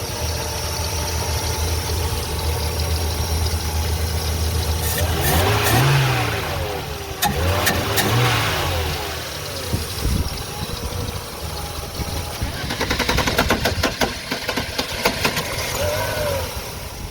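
A 1989 Mercedes 190E W201 with the 2.6-litre engine runs with an abnormal mechanical noise, idling and revving up and down in bursts, close and fairly loud, with ticking clatter over the drone.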